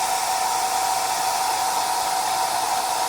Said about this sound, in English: where is my hair dryer?